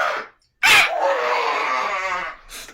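A man mimicking a dying bird with his voice, giving a short squawk and then a long, strained, wavering screech that trails off, followed by another brief cry, close and loud.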